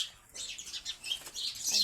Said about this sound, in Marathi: एवढा चिवचिवाट चालू आहे सकाळी